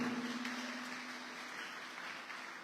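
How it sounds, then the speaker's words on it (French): Audience applause for award winners at a graduation honours ceremony in Petit-Canal, a steady wash of clapping throughout with a faint hum underneath and no talk. "Et je tiens à ce qu'on applaudisse, et bien surtout les lauréats qui sont là ce soir, ainsi que les parents."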